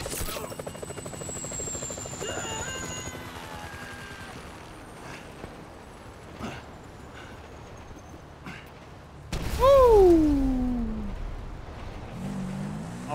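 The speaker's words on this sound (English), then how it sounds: "Can you hear that? Chopper! Incoming!" A helicopter approaching in Grand Theft Auto 5, a low throbbing rotor drone amid game noise and occasional sharp hits, then a loud surge near the end with a rising whine and heavier engine roar.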